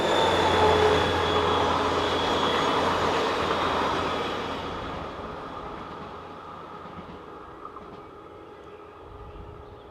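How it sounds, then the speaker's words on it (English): BB 67556, a blue-liveried diesel locomotive, hauls a passenger train past, starting loud with engine roar and wheel rumble, then fading steadily into the distance as the train draws away. "number BB 67556 in original blue livery powers south with the 1642 from Ghana"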